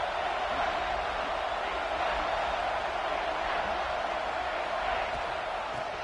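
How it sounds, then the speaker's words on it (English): A college football stadium crowd at Georgia against Stanford, a broad steady roar of cheering noise rising during a red zone defensive stand, sustained throughout beneath faint commentary. "This crowd is trying to inspire this defense to make a big red zone stop."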